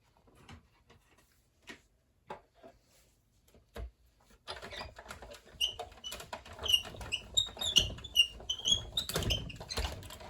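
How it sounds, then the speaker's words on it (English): A die cutting machine in a crafting room runs with a squeak. Scattered light clicks give way to steady rapid squeaking and rattling, quiet and close, with no talking. "So I'm gonna run this through my my die cutting machine here."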